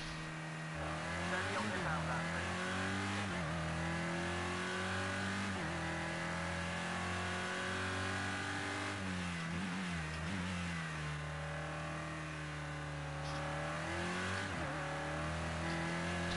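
A touring car engine in Project Cars 2, driven on a qualifying lap at Zhuhai, revs high through repeated gear shifts, climbing and dropping in pitch over a steady roar, with a voice talking faintly underneath.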